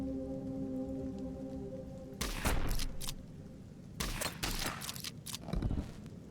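Gunfire in the video game Heart of the Machine comes as bursts of rapid crackling shots in clusters, loud and close, separated by short gaps over a low humming background.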